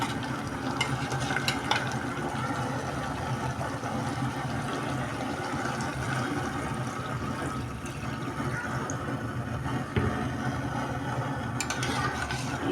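Liquid is poured into a simmering fish and pointed gourd curry, a steady wet bubbling and pouring wash with occasional clinks of utensils, close and continuous, no talking.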